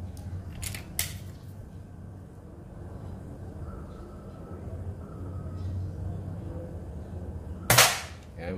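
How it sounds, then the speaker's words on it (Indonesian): A compact PCP air rifle with a 30 cm barrel and 38 mm dural tube fires one sharp, close shot late in the clip, preceded by a couple of fainter clicks over a steady outdoor background hum. "Tembakan yang ketujuh."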